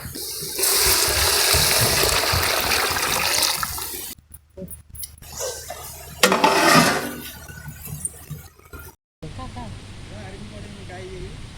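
Water is poured into a pan for vegetable rava upma, a loud rushing splash that stops abruptly, followed by softer clinks and stirring, with cutaways and a voice speaking at times.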